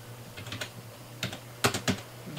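Short bursts of clicky computer keyboard typing as a command is entered, a few scattered taps followed by a quick cluster of louder keystrokes, close and alone.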